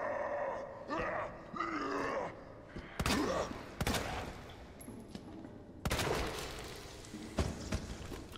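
Gunshots in Resident Evil 2 Remake: a few sharp, loud cracks spaced a second or two apart, mixed with groaning creature sounds and game ambience.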